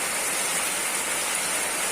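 Heavy rain falls steadily in a dense, even hiss with no pauses, close and fairly loud, with no other sounds standing out.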